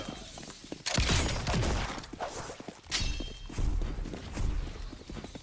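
Heavy gunfire in the Hunty Zombie game: dense, loud bursts of shots and impacts come in waves over a busy game background, close up and continuing throughout.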